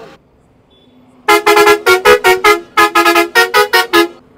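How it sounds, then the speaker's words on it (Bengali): A Volvo bus leaving the factory sounds its horn in a rapid series of loud, short blasts, about fifteen honks in two quick bursts, close and dominant after a quiet idle. "হর্ন বাজিয়ে প্রকাশ ফ্যাক্টরি বেরোচ্ছে"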